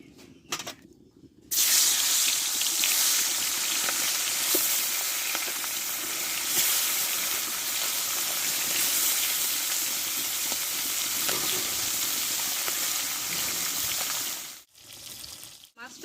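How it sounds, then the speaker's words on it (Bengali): Pieces of pona fish fry in hot oil in a kadai wok, giving a loud, dense, continuous crackling sizzle that holds for most of the stretch before cutting off near the end, with no talking. "কড়াটা গরম করে নিয়েছি আমি তেলটা দিয়ে দেবো দিয়ে মাছটা ভেজে নেবো আগে"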